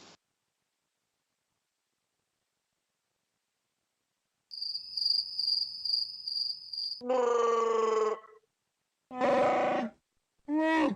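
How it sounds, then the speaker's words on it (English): Crickets chirping in quick pulsed trills heard after a stretch of silence, followed by several louder, sustained harsh bursts, with no one talking. "The crickets"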